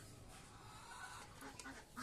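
Ducks being fed rice bran and paddy grain give faint, steady quacking and bird chatter against a low, continuous outdoor background, with no talking.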